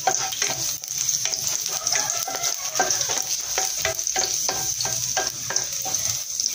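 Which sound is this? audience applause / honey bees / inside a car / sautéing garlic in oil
sautéing garlic in oil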